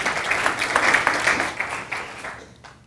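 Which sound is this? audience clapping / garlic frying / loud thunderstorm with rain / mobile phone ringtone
audience clapping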